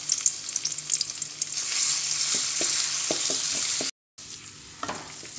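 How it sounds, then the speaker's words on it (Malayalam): Crushed ginger and garlic fry in hot coconut oil with a steady, close sizzle. Soft stirring taps sound through it, and there is one brief dropout near the end. "അതിലേക്ക് ഞാൻ ഇതാ 1 ടീസ്പൂൺ ഇഞ്ചി വെളുത്തുള്ളി ചതച്ചത്"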